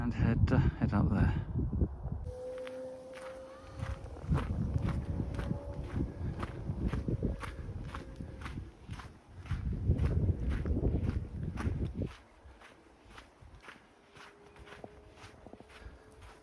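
Footsteps crunch steadily up a hillside path on Upton Heath, a regular walking rhythm close to the microphone with light wind noise, and a person talks over part of it.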